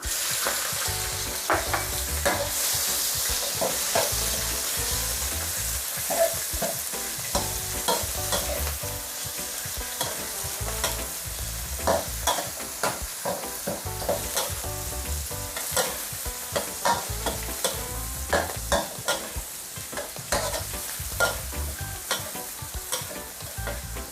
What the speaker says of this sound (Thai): พอกระเทียมเริ่มเหลืองก็ใส่กุ้งลงไปก่อนเลยค่ะ